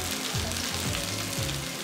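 Chicken roast, a Kerala-style chicken peralan with coriander leaves on top, sizzling steadily in a pan while being stirred, with a few scraping strokes of the spoon heard close up.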